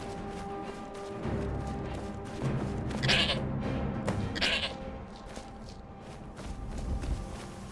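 A goat bleating twice in Skyrim, short nasal cries over game ambience and footsteps, with soft background music.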